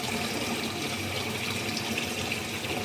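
Water gushes and splashes steadily as tambaqui fry are poured from a container into a 1000-liter tank, a continuous close rushing pour with no voices.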